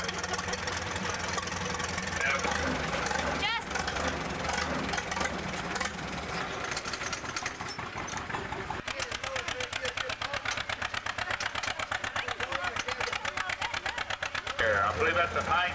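A 1936 model tractor engine at a 1990 tractor pull, a loud continuous knocking, chugging roar that steadies into a rapid pulsing beat, heard under an announcer talking over a loudspeaker.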